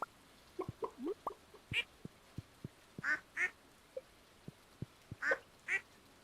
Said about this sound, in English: here's Ashlyn, the duck.